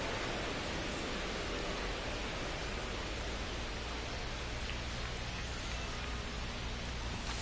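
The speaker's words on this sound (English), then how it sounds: "It feels like we might be headed towards a rain delay if the weather doesn't ease up, Chris." Heavy rain falling during a baseball game, a dense, steady hiss of downpour on surfaces that holds unchanged throughout with no voices over it.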